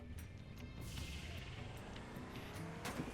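A car driven in the video game Borderlands rumbles along steadily for about three seconds, with tire noise and a couple of brief sharp squeal-like bursts over a continuous engine drone.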